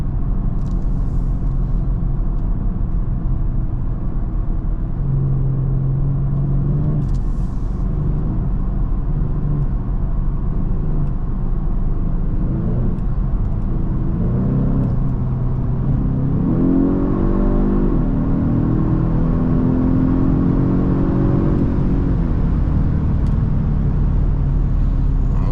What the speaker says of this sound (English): I love to hear that engine, man.